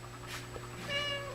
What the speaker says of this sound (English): this is a movie for everybody that's missing the cats